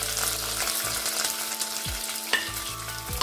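Green chillies frying with mustard seeds, ginger and garlic for a sardine dish, a close hiss with a few spoon scrapes and clinks against the pan, no voices.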